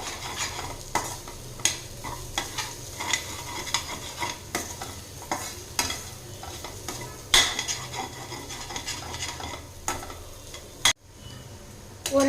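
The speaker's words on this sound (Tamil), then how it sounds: "இந்த கடலைப்பருப்பு சேர்த்துட்டு எண்ணெயிலேயே ஒரு நிமிஷம் நல்லா வதக்கி எடுத்துக்கலாங்க" Ground chana dal sautéed in oil for beetroot poriyal, with repeated metal spatula scrapes and taps against the pan at a steady rhythm over a continuous sizzle, close and clear, without speech.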